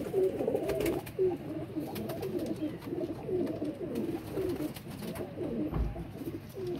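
Pigeons coo softly and repeatedly at close range with low murmuring calls, along with faint background rustling and a few small knocks.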